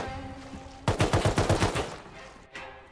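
Rapid burst of eoka pistol gunshots in the survival game Rust, about seven sharp loud cracks in quick rhythm, close and punchy over a low ambient background, with one further distant shot afterward.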